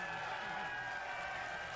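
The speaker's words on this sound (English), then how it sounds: "Give her a round of applause." Steady applause from an audience at the Xbox X019 event, a dense even wash of clapping heard at moderate distance.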